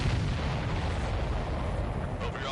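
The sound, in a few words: explosions and artillery fire in a video game battle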